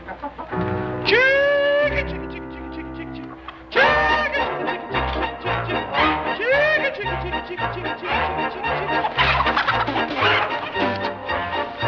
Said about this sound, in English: You want to scare all my chickens off.